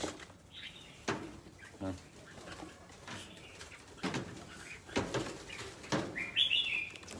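Pigeons call in short chirps and coos amid scattered rustling and knocks, faint and nearby, with a brighter twittering call near the end and little talk.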